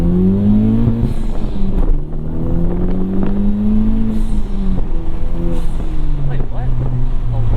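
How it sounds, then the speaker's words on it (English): An FL5 Honda Civic Type R with a Stage 2 Hondata tune pulls hard at full throttle in first gear. The engine note climbs steadily in pitch through repeated rising sweeps, close and loud. "I'm gonna floor it in first gear"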